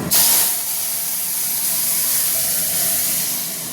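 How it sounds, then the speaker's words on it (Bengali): Chutney hits hot oil seasoned with dried red chilli and panch phoron, bursting into a loud, close, broad sizzling hiss that holds steady for several seconds. "এইবার আমি চাটনিটাকে ঢেলে দেবো"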